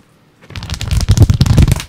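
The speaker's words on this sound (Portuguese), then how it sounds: "Estou folheando ele, paginando." Pages of a thick book riffle rapidly right beside the microphone, a dense, papery flutter lasting over a second.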